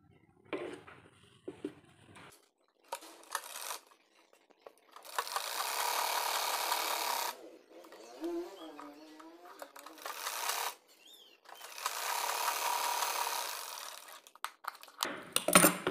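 Sewing machine stitching a baby girl's top, running in several bursts of steady mechanical whirring separated by pauses, close and fairly loud, with faint handling sounds between runs.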